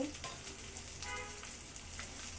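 Chopped onion and garlic frying in oil for a spicy coconut prawn dish, a faint, steady sizzle with a few soft crackles and pops, quiet and close, with no talking.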